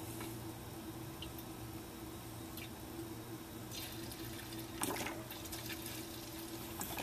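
Water is poured into the boiler of a 1926 Bowman 234 live steam locomotive, a faint steady trickle and splash running the whole time over a low hum, with a brief louder splash partway through.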